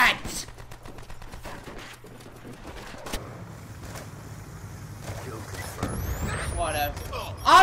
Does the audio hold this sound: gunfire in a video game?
yes